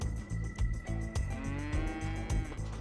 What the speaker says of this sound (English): Calvin's sister Bubby wrangles the cows into the chute